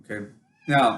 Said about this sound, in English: if you hear some meowing, it's because my cat wants to get out.